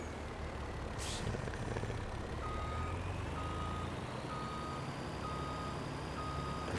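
Truck reversing beeps from a farm vehicle in Farming Simulator 22, a steady series of evenly spaced electronic tones over a constant engine rumble, with a brief hiss near the start.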